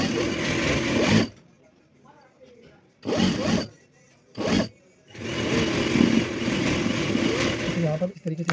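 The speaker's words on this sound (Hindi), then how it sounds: "इस कपड़े को आपने जब भी सिलाई लगानी है तो बिल्कुल हल्के हाथ से यानी कि कपड़े को हम खींचेंगे बिल्कुल भी नहीं।" A sewing machine runs in several bursts while stitching the hem of an abaya with a light hand, fabric not pulled; loud whirring runs with pauses between them, the last one long and steady.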